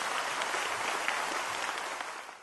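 Applause from an audience at an International Yoga Day event, a dense, sustained clapping that holds steady and then slowly fades toward the end, with no voices over it.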